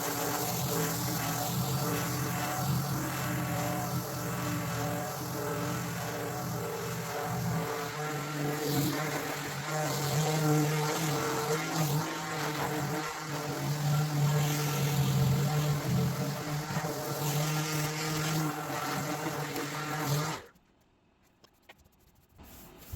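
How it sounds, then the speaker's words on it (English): A wooden workbench surface is sanded with 80 grit sandpaper, probably by power sander, making a continuous loud whirring, gritty drone for about twenty seconds that stops abruptly, followed by near silence. "That was just 80 grit sandpaper."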